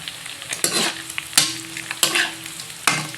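Smoked fish (tinapa) fries with garlic and onion in a pan, crackling and sizzling close up, broken by four sharp spatula scrapes and stirs at roughly regular intervals.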